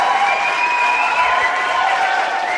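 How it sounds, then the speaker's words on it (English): A live audience applauds and cheers steadily, a broad wash of clapping with scattered whoops, fairly loud and sustained throughout, with a faint voice beneath it. "the crowd just seems to get more excited"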